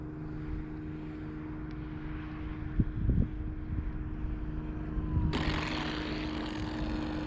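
A full-size airplane passes overhead at a distance, a faint, steady droning hum mixed with outdoor wind noise at a remote-control flying field.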